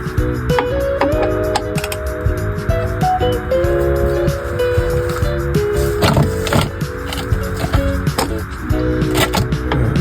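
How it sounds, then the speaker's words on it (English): A 13mm wrench working the oil drain bolt on a 2018 Ram 1500 during an oil change, close, loud ratcheting clicks and metallic scrapes over a busy, constant background drone. "Now we're gonna take the drain bolt off with a 13mm."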